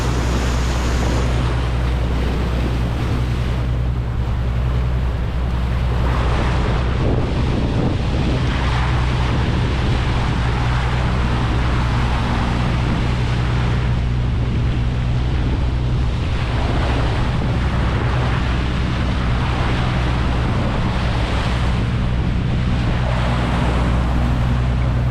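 Sea waves slam against a small boat during a sea trial, a loud continuous wash of surf and water with gusty wind buffeting the microphone and a steady low engine rumble underneath, with no talking.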